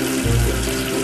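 Running water from a kids' counting game pours steadily to rinse soap off a cartoon number one, a short continuous faucet-like gush that swells slightly partway through, close and alone.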